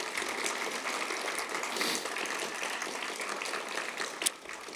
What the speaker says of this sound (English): if everyone could give a round of applause